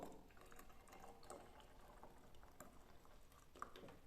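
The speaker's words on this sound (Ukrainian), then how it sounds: "У банку наливаємо гарячу воду" Hot water pours steadily into a glass jar with a soft, bubbling gurgle, quiet and close, ending in a brief clunk.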